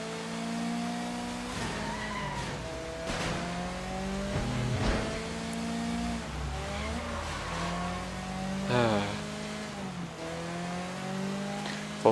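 A car engine revving in the video game Sleeping Dogs, a steady droning motor whose pitch climbs and drops through gear changes, with short tire squeals and skids, alone and fairly quiet.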